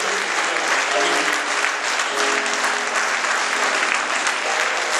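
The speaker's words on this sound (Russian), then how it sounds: "Аплодисменты великому Богу" A church congregation breaks into loud, sustained applause during a service, the close, dense clapping holding steady from start to finish with faint voices mixed in.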